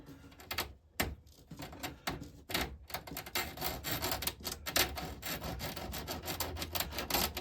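Rail cutters snipping model railway track with a double cut, giving a run of sharp clicks and rasping scrapes close to the microphone at a steady working pace.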